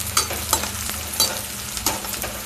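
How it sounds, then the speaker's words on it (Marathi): Vegetables sizzle and fry in a pan for brown rice vegetable pulao while a spoon stirs them in regular scraping strokes, close and fairly loud, with no talking. "फ्राय जर करून घेतले ना ते अजून छान लागतात खाताना. तसे वर खाली करत राहायचं."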